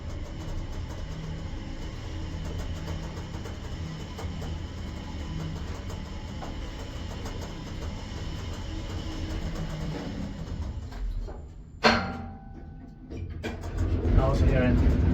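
A 1997 Kone MonoSpace machine-room-less traction elevator in Hatanpää, Tampere, hums with a low, even rumble during the ride. A sharp clunk and sliding door movement follow near the end, and a voice speaks over it.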